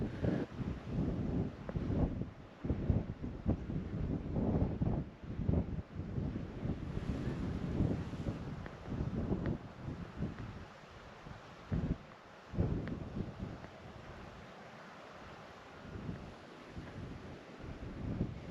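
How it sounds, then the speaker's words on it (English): Strong wind on the island of Tiree buffets the microphone in a continuous low roar, with loud gusts that rise and ease throughout and no voices. "It's a windy place."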